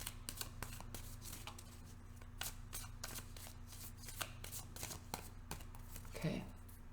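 Quiet hand shuffling of a tarot deck, with repeated soft, crisp card flicks and riffles in an uneven rhythm, heard close and alone.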